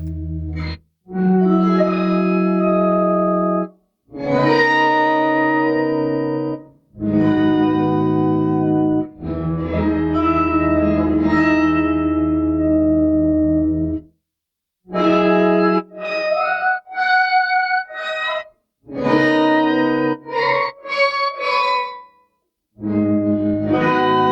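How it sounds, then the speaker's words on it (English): Electric guitar played through a Chroma Console pedal with its cassette effect engaged, wobbly tape-like chords and notes ringing out loud in phrases separated by brief silences, alone without talk. "now I'm going to turn cassette on and put the amount there"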